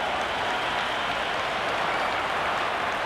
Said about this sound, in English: The crowd is electric right now.